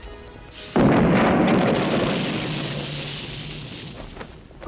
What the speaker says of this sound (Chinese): 俾一炮我玩玩啦！